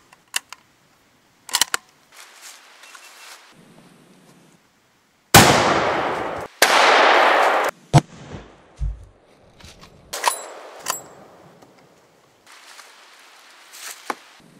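Several loud, sharp .458 Win Mag rifle shots with 510-grain jacketed soft point bullets fire into a plastic ballistic test, spaced apart with clicks and handling noises between them.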